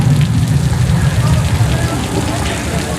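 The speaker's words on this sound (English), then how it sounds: "you have some rain effects coming out from the tops of the roofs" Artificial rain effects pour from the rooftops of a studio backlot set, a steady, dense hiss of falling water spattering onto surfaces, continuous and fairly loud throughout with a low rumbling undertone.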